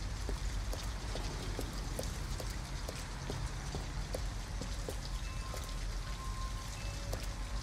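Steady rain falling in the video game Detroit: Become Human, a dense continuous patter with scattered sharper drops striking surfaces, even and fairly loud throughout, with no voices.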